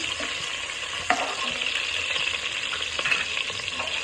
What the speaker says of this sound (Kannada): ಇದನ್ನು ಸ್ವಲ್ಪ ಚೆನ್ನಾಗಿ ಫ್ರೈ ಆಗೋವರೆಗೂ ಫ್ರೈ ಮಾಡ್ಕೊಬೇಕು